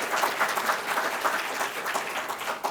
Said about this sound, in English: So please give Kelly a round of applause for all of your wonderful work.